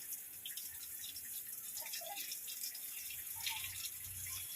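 Faint running water pours steadily onto dry garden plants, a quiet continuous splashing and trickle with no voices.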